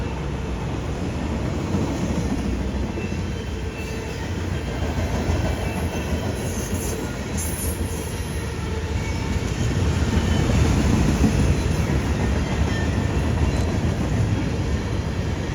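A CSX freight train rolls past on the Henderson Subdivision near Nortonville, Kentucky, a steady, loud rumble of wheels and cars that swells slightly later on, with no talking.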